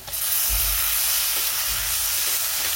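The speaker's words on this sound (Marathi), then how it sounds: "आता आपण टोमॅटो टाकून घेऊ" Tomatoes being sautéed with onions in a hot pan for an okra bhaji, a loud, steady hissing sizzle right up close, with soft scraping stirs underneath.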